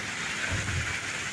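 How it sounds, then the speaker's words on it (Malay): Steady rain pours down in the late afternoon, a dense even hiss with a low rumble underneath, no voices. "Baru nak rancak dah hujan dah."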